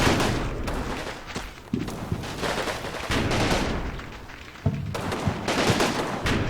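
Dense gunfire from the Combat Mission: Fortress Italy war game, continuous fusillade of rifle and machine gun bursts with occasional heavier booms, loud and sustained throughout with no talking.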